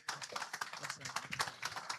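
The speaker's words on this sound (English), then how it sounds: "A round of applause, standing ovation." An audience claps in a dense, steady round of applause to welcome the pastor at a church teens' week event in Bristol, with voices mixed into the crowd noise.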